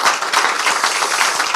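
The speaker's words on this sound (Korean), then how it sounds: "힘내시라고 박수 한번 주시기 부탁드립니다" Audience applause at a political party meeting: dense, steady clapping from many hands, close and even in loudness, filling the short moment without a break.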